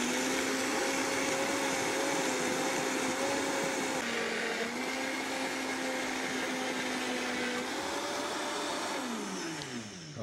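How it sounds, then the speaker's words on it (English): A high-powered kitchen blender runs at a steady, loud motor whine, dips briefly in pitch partway through, then winds down at the end, with no one talking. "I always start the blender on low and then try to get it cranking up from there"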